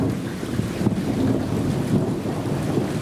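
Deep rumbling thunder rolls on over a lake beneath steady wind buffeting the microphone, a continuous low roar with no voices.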